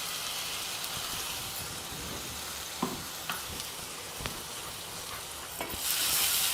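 Ground mint, green chili and garlic paste is sautéed in a pan for millet pulao, a dense close sizzle like light rain, with a few sharp spoon knocks and scrapes and a louder burst of spitting near the end.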